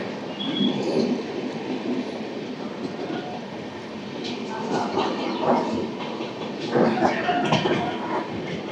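Riding aboard the 12862 Superfast Express at about 130 km/h as it runs through Vidyanagar station without stopping, a steady rumble and clatter of wheels and carriage, with rising rattles and faint voices.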